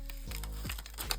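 Paper being cut for a journal spread, a short dry crinkling and snipping rustle, close and fairly loud, with no talking.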